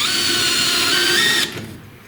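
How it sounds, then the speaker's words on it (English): Power drill in drill mode boring holes into the steel frame of a 1973–1997 Ford F-Series or Bronco truck: a loud, close, steady high whine that stops abruptly near the end. "Put it up here in drill mode, get some holes poked in this thing."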